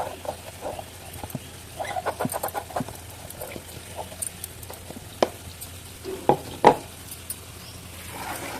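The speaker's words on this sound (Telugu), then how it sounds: "పచ్చి బెల్లం అంతా కూడా బాగా ఉడికించుకోండి" Jaggery syrup cooks in a pan with a soft bubbling simmer, punctuated by scraping and tapping from a utensil stirring it, with a few sharper clinks near the end, close and fairly quiet.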